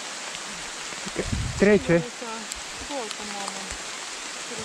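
Rain and hail fall during an outdoor tempo running session, a steady wash of hiss throughout, while people's voices speak briefly in the middle over it.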